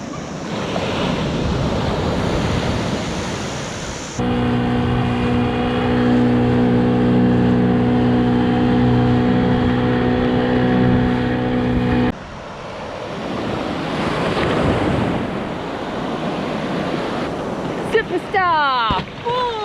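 Ocean surf washes and crashes in a continuous broad rush, interrupted mid-way by a steady tonal hum, with voices and splashing sounds near the end.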